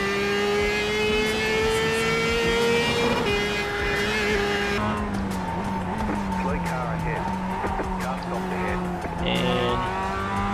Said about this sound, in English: Listen to the MX-5 sound like an F1 car.